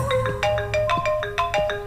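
A mobile phone ringtone left inside a room repeats its electronic melody several times in quick, even bursts, fairly close and alone without talk.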